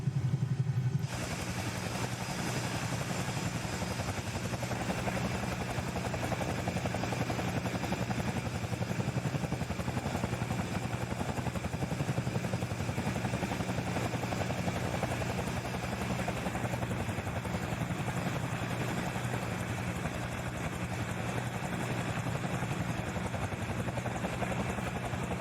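Bell 222 helicopter in Microsoft Flight Simulator with the collective set to idle, its rotor and turbine giving a steady, loud, continuous whine and thrum that holds unchanged for the whole stretch, with no talking.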